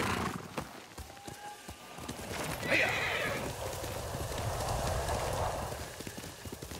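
A horse in the video game Ghost of Tsushima whinnies loudly while its hooves clip-clop along, the neigh rising and fading over steady hoofbeats and ambient game sound.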